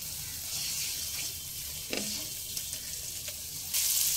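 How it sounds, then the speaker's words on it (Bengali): Ground chilli, cumin and coriander powders sizzle in a pan with a splash of water while cooking for a cauliflower pulao. A soft, continuous crackle is broken by a few scraping stirs, heard close and alone. "দেবো অল্প একটু জল দিয়ে মশলাটাকে খুব সুন্দরভাবে কষিয়ে নেব।"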